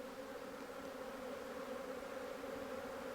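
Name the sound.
honey bee swarm buzzing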